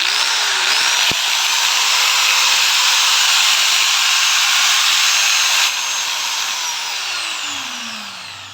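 A repaired electric angle grinder switched on for a test run, a loud steady high-pitched motor whine holding for several seconds before it dips slightly and starts to spin down toward the end.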